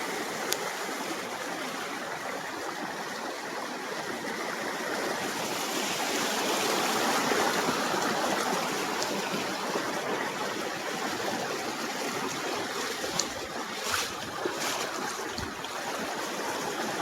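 Rushing monsoon floodwater at night on the Konkan coast, where people go out crab fishing, makes a steady broadband hiss and roar that holds evenly throughout, moderately distant and unbroken by speech.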